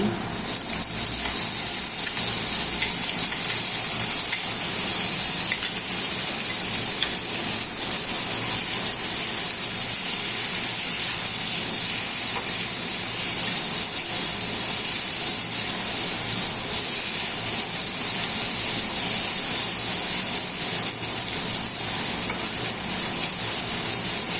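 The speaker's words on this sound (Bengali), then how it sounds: "লাল করে আলু ভাজা হয়ে গেছে এবার তার মধ্যে দিয়ে দিচ্ছি পেঁয়াজ কুচি" Chopped onion hits a pan of potatoes already fried until red, setting off a loud, steady sizzle. The frying hiss holds evenly throughout and comes from close by, with no talk over it.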